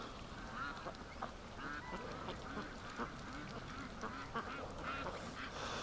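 A flock of ducks quacks and honks continuously in a yard, a dense overlapping chorus of nasal calls at moderate distance over a steady background hiss.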